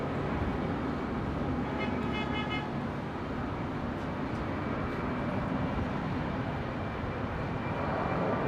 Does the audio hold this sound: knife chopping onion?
no